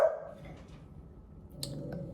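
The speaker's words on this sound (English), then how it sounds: "Excuse my dog barking." A pet dog barks once, loud and close, at the very start, then the room goes quiet, with a faint sharp yip or click further on.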